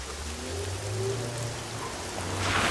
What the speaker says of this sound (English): It is a rainy evening, and dark clouds cover the sky with rain flowing over the city roads